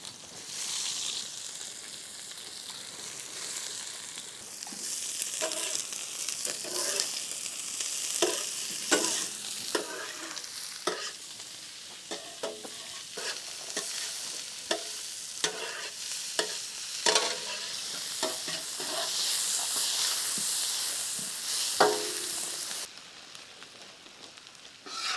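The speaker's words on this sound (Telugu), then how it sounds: "ముందుగా అయితే ఆనియన్స్ వేపుదాం." Onions frying in hot oil in a home kitchen pan, with steady close sizzling and repeated scraping stirs of a spoon throughout, no talking.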